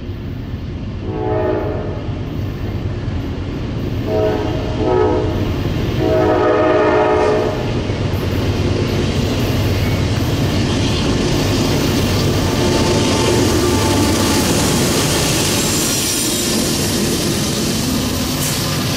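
Norfolk Southern freight train rumbling past close by, its horn sounding in several loud blasts early on over the steady roar of rolling cars.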